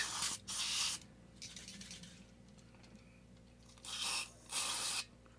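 Two pairs of short sprays of contact cleaner hit a Johnny Lightning toy car, each burst a crisp hiss about half a second long, close and fairly loud, with quiet handling between them and no talk.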